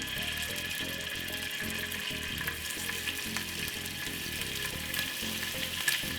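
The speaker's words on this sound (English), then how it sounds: "Pop a little bit of olive oil inside of it. Get those lovely meatballs and put them in." Meatballs fry in olive oil in a hot frying pan, a steady close sizzle with crackling and the occasional stir, no talking over it.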